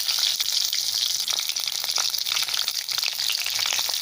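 Bay leaves, dried red chilies, whole cumin and green chili fry in hot oil, giving off a loud, dense crackling sizzle that runs steadily throughout.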